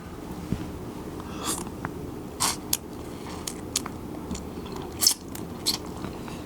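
Close, crisp bites and crunchy chewing on deep-sea shrimp coated in mala sauce come in short irregular bursts, with no talking.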